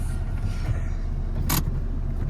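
A Citroen Berlingo van with a newly replaced clutch pulls away, its engine a steady low rumble throughout, with a brief bright mechanical rattle partway through.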